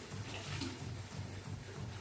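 Water runs steadily from a tap, pressurised by a ZP15-9-160 booster pump in automatic mode, making a continuous close, moderately loud gushing rush with slight fluctuations.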